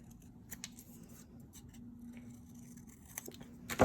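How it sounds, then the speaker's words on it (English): Scissors snip through paper during a robot craft project, a series of short crisp cuts under a low steady hum, with a louder snip right at the end. "I'm gonna cut this one down."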